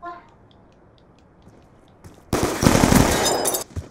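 Gunfire in a gun-game video game match, a dense rapid burst of shots lasting over a second after a quiet stretch, loud and close, with a brief voice at the start.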